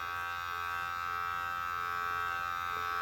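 Hair clippers fitted with a guard buzz steadily and quietly while trimming a beard at the sideburn area, a continuous even electric hum with no talking.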